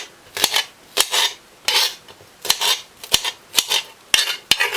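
A knife slices through fresh garden-picked okra on a board, each cut a crisp, sharp tap with a short wet scrape, about eight strokes in an uneven, steady rhythm, close and alone.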